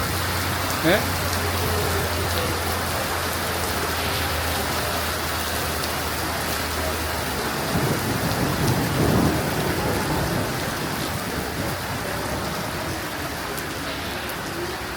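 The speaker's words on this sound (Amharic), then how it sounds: "በጣም እየረገጠ ነው ግን ለብዙ አራቅም እየተመቸ ነው ዝናቡ" Heavy rain pours down steadily and loudly, a dense continuous wash of drops on surfaces with low rumbles underneath and a voice speaking faintly beneath it.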